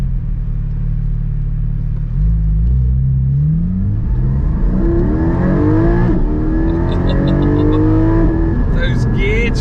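A Porsche 718 Cayman GT4 with the PDK gearbox revs up through quick gear changes, heard loud from inside the cabin as the engine note climbs, drops sharply at each shift and climbs again.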